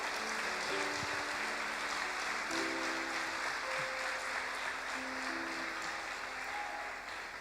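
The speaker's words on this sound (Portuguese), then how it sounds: "dá um aplauso ao Senhor" Sustained crowd applause at a church worship service, steady and dense throughout, with faint sustained musical tones running underneath.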